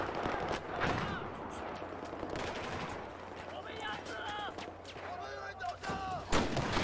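Video game gunfire, including a scoped revolver, sounds as a string of sharp cracks and thumps scattered over several seconds, mixed with lively game sound effects and background noise.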